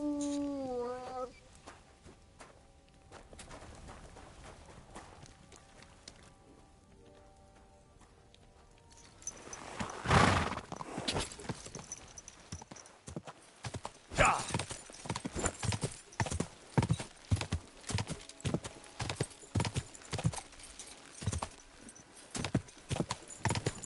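Hooves clip-clop in a brisk, regular rhythm that grows louder partway through, with a brief horse whinny and a voice heard early on, in a video game.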